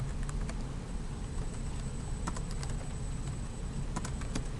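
Rapid typing on a computer keyboard, steady key clicks in uneven bursts over a constant low hiss, close and fairly quiet with no voices.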